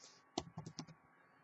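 Quick burst of computer keyboard typing, about six sharp clicking keystrokes bunched in under half a second, close and fairly quiet, with near silence before and after.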